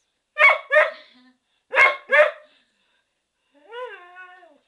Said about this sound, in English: your bark is not that fierce.